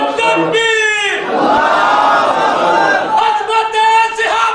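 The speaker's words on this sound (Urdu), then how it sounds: "ایک دو نعرے لگا دے جناب زور کر دے" A crowd roars religious takbir slogans in unison at a Muslim speech gathering, loud, broad and sustained for several seconds after a single voice leads the call.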